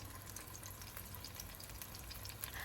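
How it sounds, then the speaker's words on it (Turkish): Tomatoes and eggplant sizzle in hot oil in a frying pan, giving a steady, fairly quiet hiss and crackle with no talk. "Domateslerimi ekliyorum yağ ısındıktan sonra ve daha sonra patlıcanları ekliyorum."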